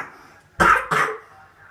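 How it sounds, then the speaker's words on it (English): A young child coughs twice in quick succession, two short harsh bursts close to the listener with a brief gap between them, in a quiet indoor room with no talking. "You still got that nasty cough"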